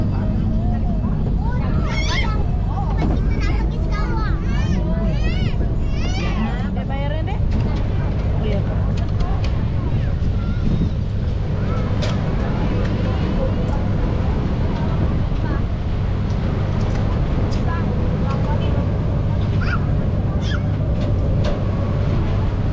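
Steady rumble of car and motorbike traffic crossing the Kapuas bridge overhead, heard from a klotok boat passing beneath on the Pontianak waterfront river, a continuous loud low drone with voices talking over it early on.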